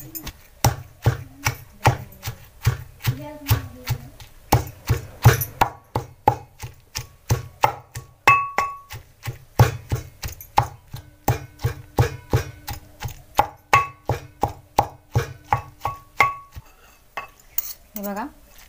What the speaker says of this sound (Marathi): मी खलबत्त्याखाली एक कापड ठेवलेलं आहे म्हणजे आवाज नाही येणार जास्त म्हणून